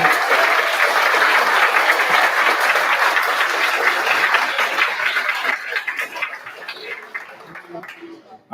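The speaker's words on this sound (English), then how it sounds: "give them a round of applause for the judges" Audience applause for the judges at a student demo day, dense clapping that is loud at first and then gradually thins and fades out, with some voices underneath.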